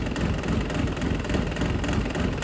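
A Dodge Caliber SRT4 engine idling with a steady, dense rumble that holds even and close throughout, with no voices.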